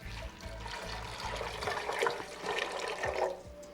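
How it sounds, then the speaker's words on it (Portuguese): Filtered water pours and splashes over about 400 grams of sliced green watermelon rind sticks with a little red flesh, a steady close trickle and gurgle for a few seconds with no talking. "E agora eu vou cobrir com água filtrada."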